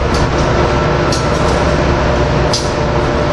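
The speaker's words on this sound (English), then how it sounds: "Bringing up the rear of the tank of the tank car train is a boxcar." A freight train of tank cars with a boxcar at the rear rolls past close by, a steady loud rumble of wheels on rail with a few brief squeals and clanks over about three seconds.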